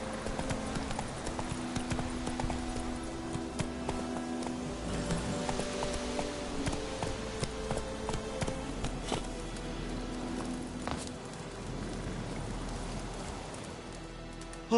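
Hoofbeats of Roach, Geralt's horse in The Witcher 3, a steady galloping clip-clop over a wash of rain, continuous and fairly close.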